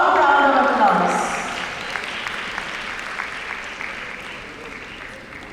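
A conference audience applauds warmly to welcome a healthcare sustainability panel on stage, the loud clapping starting strong and tapering slowly into a softer, lingering patter.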